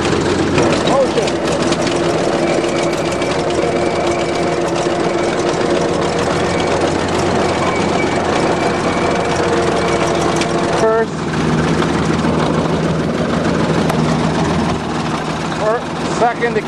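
Farm tractor engine running steadily in second gear of six, a loud continuous low rumble with a brief dip in level near the end.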